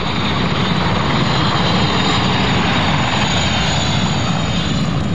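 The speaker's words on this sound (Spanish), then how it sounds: "Helicópteros, grandes y pequeños," Firefighting helicopters, large and small, fly close and loud, giving a steady, unbroken roar of engine and rotor.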